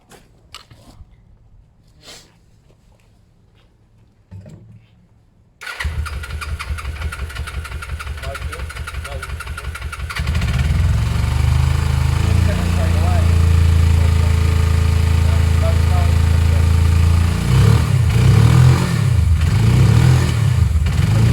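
A Suzuki GS500 500cc motorcycle, freshly carb-cleaned and balanced and still cold, cranks and fires into a loud, steady idle close by, then is blipped and revved under the throttle, with people talking nearby.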